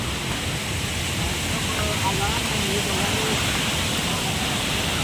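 Loud waterfall roar at Savatkada falls in Rajapur, Konkan, a steady broadband rush of falling water that fills the whole clip without letup.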